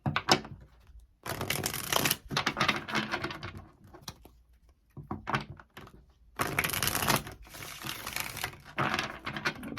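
Tarot cards being taken out, handled and shuffled at close range, with bursts of riffling and papery rustling separated by short quiet pauses and a few soft taps, no talking.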